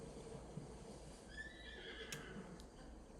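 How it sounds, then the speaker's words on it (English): A horse in the video game Zelda: Tears of the Kingdom gives a long, faint whinny that rises and falls, with soft clip-clop hoof sounds and a quiet steady background. "Oh, wait, whose horse is this?"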